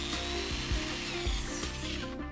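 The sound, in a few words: drilling hardwood with a 4 to 5 millimeter drill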